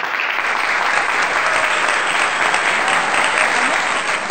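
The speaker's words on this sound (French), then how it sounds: "Applaudissez pour Amélie" An audience claps steadily and loudly in a church or children's service, a dense continuous wash of hands filling the whole stretch without pause.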